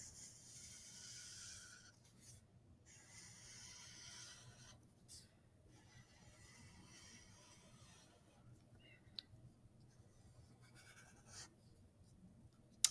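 A black Sharpie marker draws outlines on paper during an art lesson, a faint, close scratching and rubbing in strokes broken by short pauses, with a few light taps and no voices.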